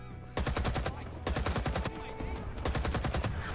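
Continuous machine gun fire in Rising Storm 2: Vietnam comes in three long, rapid bursts with brief gaps between them, sharp and punchy, with a voice faintly underneath.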